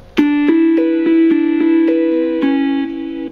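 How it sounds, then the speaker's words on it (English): Sustained, electric-guitar-style notes from a 1983 Casio DG-10 digital guitar ring out in a quick sequence, loud and clean, each note blending into the next. "An electric guitar."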